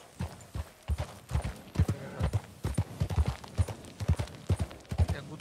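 Horse hooves pounding steadily in Red Dead Redemption 2, a rhythmic clip-clop gallop that stays loud and close throughout with no talking over it.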